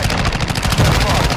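Dense, continuous automatic gunfire in the Black Ops shooter video game, loud and rapid with overlapping bursts filling the whole moment.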